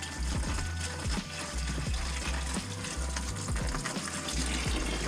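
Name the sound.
coolant draining from a Mazdaspeed 3 engine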